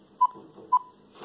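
Two short, clear touch-tone beeps from a phone keypad as a number is dialed, spaced about half a second apart, with faint room noise between them.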